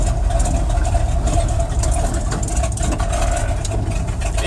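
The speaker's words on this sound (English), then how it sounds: "it's idling a little bit because we didn't warm it up very well." A truck engine idles roughly, not fully warmed up, with a steady low rumble and a faint hum that holds through the whole stretch, without voices.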